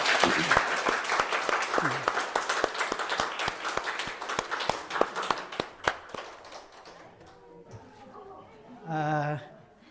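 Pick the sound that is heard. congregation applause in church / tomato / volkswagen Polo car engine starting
congregation applause in church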